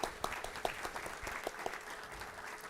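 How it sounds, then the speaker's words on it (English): Audience applause at a mayor's breakfast event, faint and distant, a short patter of scattered claps fading after a few seconds. "Let's give them a round of applause."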